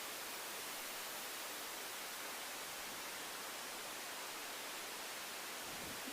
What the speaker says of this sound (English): these two are called the pink noise and the white noise